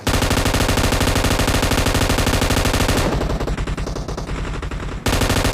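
Rapid automatic gunfire from a Hindi-commentated battle royale shooter with an AWM sniper rifle, loud and continuous for about three seconds, then a more scattered burst of shots before the dense firing resumes.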